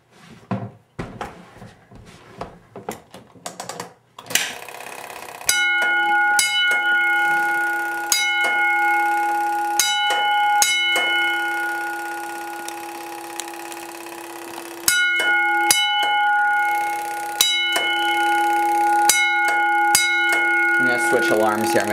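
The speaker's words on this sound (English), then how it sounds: "the coated pull station is going to activate the Honeywell bell" A Honeywell fire alarm bell, coded by a Simplex 4263-1 pull station, rings in grouped bursts separated by pauses, loud and metallic, after some handling noise at the start.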